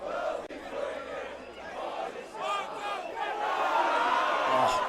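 An enthused crowd cheers and shouts at a St. John's College Easter Rugby Festival match, the roar rising and growing louder toward the end and holding at a fairly distant level.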